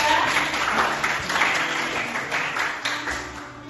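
Classroom applause for a student group, a dense, continuous patter of many hands clapping together at moderate loudness, with a few scattered sharper claps near the end.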